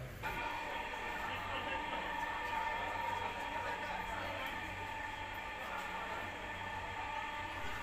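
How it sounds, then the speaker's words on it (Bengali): A Dhaka Metro Rail train departs and speeds up, humming and rumbling steadily from inside a carriage, a continuous whine and rattle as it moves, with faint voices in the background. "ট্রেন ছেড়ে দিল, খানিকের মধ্যেই স্পিড দেখেই তো অবাক সবাই।"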